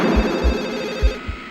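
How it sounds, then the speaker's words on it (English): An old-style telephone bell rings in the 1996 horror film Scream, heard as a loud, steady trill that fills the clip, with low thumps underneath and no speech. "The movie begins with a phone call."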